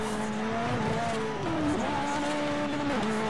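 Racing car in the Forza Horizon driving game, engine droning steadily with pitch dropping and climbing through downshifts, a continuous loud synthetic engine tone throughout with no speech.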